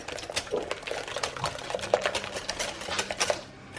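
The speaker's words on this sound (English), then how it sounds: "So now we're gonna whisk in a stick of butter." A whisk beats a stick of butter into warm cranberry puree in a bowl, making rapid, rhythmic close-up taps and scrapes that continue steadily without speech.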